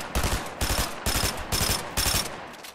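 Rapid automatic gunfire in a video game, loud and close, arriving in about five short sustained bursts separated by brief pauses.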